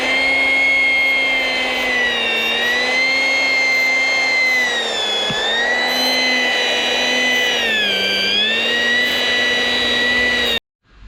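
An electric pipe threading machine runs steadily with a loud, high motor whine that dips in pitch twice under load, then cuts off abruptly at the end.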